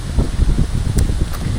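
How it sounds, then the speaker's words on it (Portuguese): Strong wind gusting across the Camino Primitivo trail, a steady loud rush of low buffeting noise against the microphone, pulsing in uneven surges throughout. "Eita, ventania."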